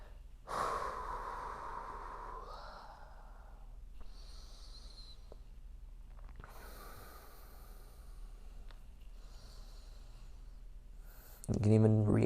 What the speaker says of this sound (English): Just breathe into it.